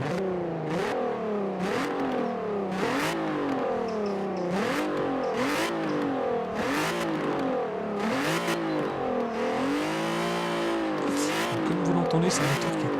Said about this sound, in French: Comme vous l'entendez, c'est un moteur qui est très rageur, avec une zone rouge qui commence à 6500 tours minute